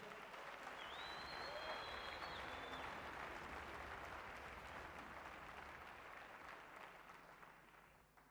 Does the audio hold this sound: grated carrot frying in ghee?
no